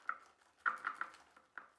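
Glow-in-the-dark slime mixture being stirred in a container, producing quiet, irregular wet clicks and squelchy taps, several soft knocks spaced unevenly over a couple of seconds.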